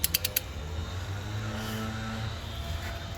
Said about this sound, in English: I'm gonna go ahead and torque it down.